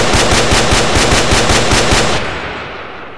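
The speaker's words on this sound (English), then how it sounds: "This is the M16." An M16 rifle with a red dot sight fires in a GTA video game as one loud, rapid, sustained automatic burst of about a dozen evenly spaced shots. The burst stops abruptly and leaves a fading echo.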